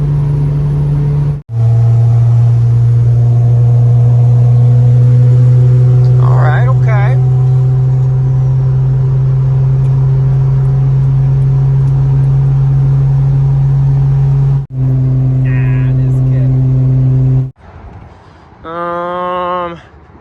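A tuned all-wheel-drive car does a third-gear roll, its loud, close engine droning in a steady, strong tone that cuts out briefly twice before a final, shorter burst.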